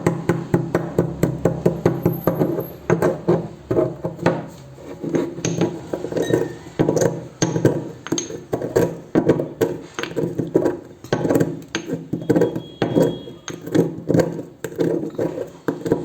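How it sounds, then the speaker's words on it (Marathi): Rock sugar crystals pounded in a metal mortar and pestle, a steady run of close, ringing knocks and clinks repeating through the whole stretch. "आता हे खडीसाखरेचे तुकडे मी इथे या खलबत्त्यात घालते आणि ते कुटते."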